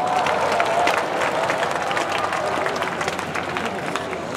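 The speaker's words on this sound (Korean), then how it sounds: "함성 소리가 정말 멋지네요" A large audience cheers and claps at the 2023 Cheonan K-Culture Expo opening ceremony, a dense, loud wall of applause and shouting that holds steady and then eases slightly toward the end.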